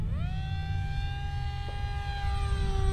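An FMS Flash 850mm pusher-prop RC jet whines steadily at half throttle overhead, a sustained electric motor tone that rises in pitch and then holds, with low wind rumble underneath.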